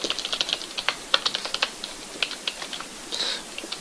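Irregular bursts of computer keyboard typing, close and fairly quiet, with uneven clusters of clicky keystrokes and a few short pauses.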